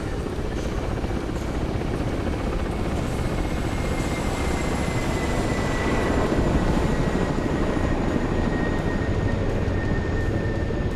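Aerobatic helicopter at an air show accelerating and climbing into a double barrel roll, a loud, steady rotor and turbine roar sustained throughout, swelling slightly midway.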